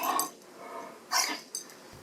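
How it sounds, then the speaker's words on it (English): A debarked dog, one that has had devocalization surgery, gives hoarse, breathy, muffled barks: a raspy opening bark, then two more short husky huffs, close by and fairly quiet. "This is what a debarked dog sounds like."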